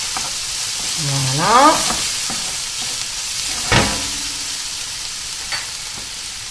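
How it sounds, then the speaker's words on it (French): Butter sizzles in a pan as a roux is started for a beef Stroganoff sauce, a steady close frying hiss with a brief spoken word and a few small clinks. "Je vais rajouter le beurre. On va faire un roux pour faire notre sauce."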